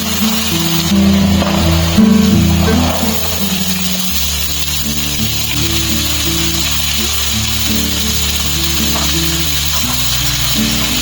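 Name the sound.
spice tempering sizzling in iron wok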